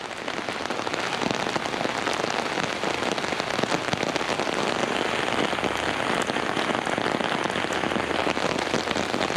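Heavy rain pours down steadily and loudly outdoors at the Palace of Fine Arts in San Francisco, a dense continuous hiss of drops on surfaces with no voices.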